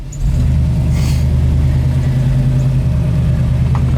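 A 1967 Ford Mustang engine rumbles loudly and steadily as the car drives, a deep close throaty drone with slight rev changes and no talking.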